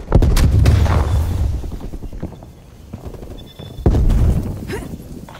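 Heavy artillery booms and gunfire in Call of Duty Black Ops Cold War, with loud close blasts at the start and again near four seconds, rumbling tails between them.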